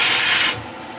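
A wood lathe turns while a tool shapes the outside of a hollow form, producing a close, hissing scraping rasp for half a second that then drops to a quieter spinning hum.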